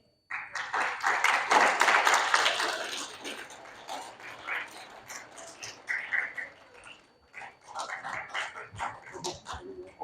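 Applause from an assembly audience welcoming the chief guest to a children's assembly in Rawalpindi/Islamabad, a dense burst that swells loudest early on, then thins into scattered, uneven clapping.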